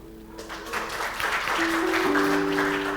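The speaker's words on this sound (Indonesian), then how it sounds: "Kalau mau tepuk tangan jangan setengah-setengah." Audience applause at a church sermon, a swelling wash of clapping that builds and holds loud to the end, with a sustained tone under it.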